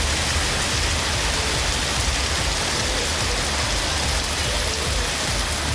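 Steady rain falls over the city streets of Pudukkottai, a dense, even hiss of drops on surfaces that holds constant with no breaks and no voices.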